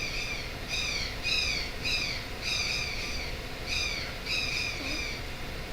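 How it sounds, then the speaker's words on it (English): Excited wild bird in Costa Rica, squawking in rapid bursts of harsh, repeated calls that come in several clusters, fairly clear against a soft background. "I have a bird that is excited right now"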